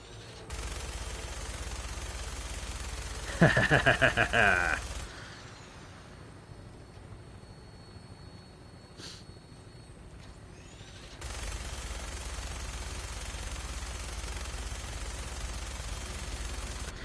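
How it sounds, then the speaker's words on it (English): Fallout 4 combat: a steady roar of rapid gunfire runs for several seconds, a sharp rattling burst cuts through, then quiet before the firing resumes, loud and close with no talk. "Of course I suck at shooting."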